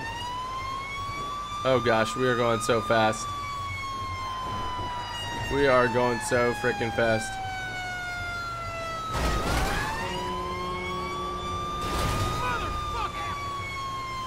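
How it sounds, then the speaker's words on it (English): Wailing fire truck siren in the video game GTA 5 sweeping up and down continuously, loud and close, while a person talks excitedly over it in short bursts. "I think it's best to always have the siren on,"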